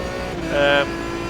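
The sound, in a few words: downshift throttle blips, Aston Martin DBR9 GT1 in iRacing video game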